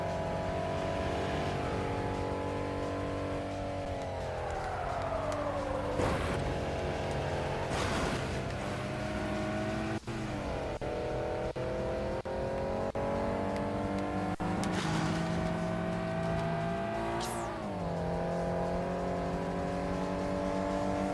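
Car engines from the racing video game Street Supremacy rev and shift continuously, loud and steady throughout, with rising and falling pitch as gears change and brief sharper bursts of acceleration.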